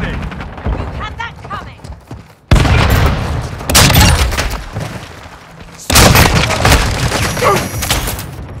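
Grenade blasts and gunfire from a Call of Duty: Modern Warfare II match: two sudden loud booming bursts crash in after a busy lead-in, each followed by dense crackling fire and rumble, with game voices calling out.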